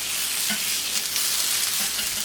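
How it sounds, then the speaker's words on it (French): Mirabelle plums sizzle and fry in a pan as they finish cooking and begin to brown, a steady close crackle with occasional stirring and no talk. "les mirabelles finissent de cuire, elles commencent à dorer un petit peu"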